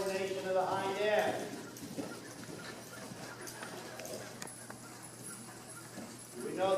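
A horse moves on soft arena footing, with faint rhythmic hoofbeats dropping into a trot, under an instructor's voice that talks at the start and end.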